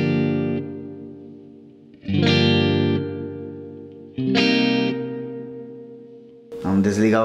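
Electric guitar played through a Vox amPlug AC30 headphone amp with effects engaged: three sustained strummed chords ringing out with modulation and decay, then a fresh strum at the end, loud and close with no talking.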